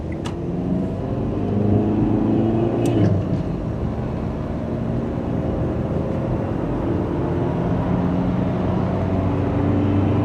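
Citroen Berlingo van joining the A66 road, a loud continuous engine and road-noise roar from inside the cabin, steady throughout with a couple of faint brief clicks.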